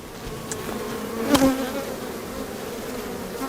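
Honey bees buzz steadily and close on a brood frame lifted from a hive, a dense continuous hum with one brief louder swell as a bee passes near.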